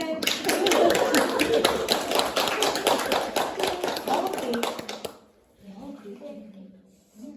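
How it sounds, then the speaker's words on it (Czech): An audience at a children's recital for mothers claps steadily and loudly for about five seconds, then the applause stops abruptly and a quieter voice follows. "Můžeme tleskat?"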